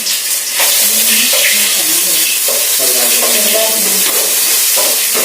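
Crushed ginger and garlic sizzle and fry steadily in a pan while being stirred for a Kerala-style beef roast, a continuous loud hiss with soft scraping, no voices.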